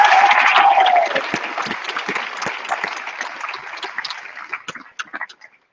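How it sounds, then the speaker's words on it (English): Audience applause for guest speakers at a joint convocation ceremony, loud and dense at first, then thinning to scattered claps that fade out over several seconds. "can we get one more round of applause for our guest speakers?"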